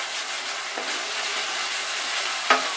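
Potatoes fry in hot spiced oil for a Bengali niramish aloo dum and are stirred, giving a close, steady sizzle with light scraping strokes and a sharp clink near the end.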